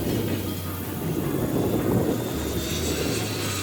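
An F-14 Tomcat jet in a flight video game roars with a steady, broad engine rumble and wind rush, loud and continuous throughout with no talk over it.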